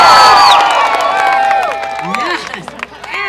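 At the Alaska State Fair, a crowd cheers for lumberjack camps in competition. Loud whoops and high shouts burst out at once, then thin into scattered yells and a few claps as the noise dies down.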